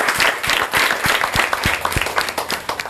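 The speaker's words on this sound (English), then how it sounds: "let's give a big applause. Big round of applause." Studio audience applause during a televised voter-awareness comedy show, with dense clapping, distinct individual claps audible in a steady, lively patter throughout.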